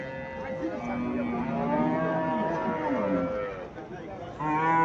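A Friesian cow and her heifer calf moo at a Comilla cattle market, with drawn-out, close lowing calls running almost continuously and a faint murmur of voices behind.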